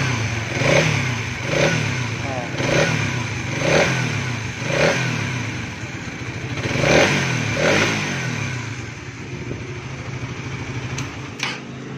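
After a cam chain tensioner reset, a 2024 motorcycle engine is revved in repeated short bursts at close range, each swelling and falling back, roughly eight blips before it settles to idle.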